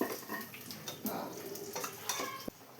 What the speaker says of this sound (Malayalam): ഇനി ഇത് നമുക്ക് സാമ്പാറിലോട്ട് ഒഴിച്ചു കൊടുക്കാം.